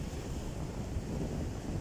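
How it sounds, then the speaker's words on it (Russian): Steady surf on the Baltic Sea at Palanga, Lithuania, during a storm washes in a continuous broadband rush, with wind buffeting the microphone. "звуки волн"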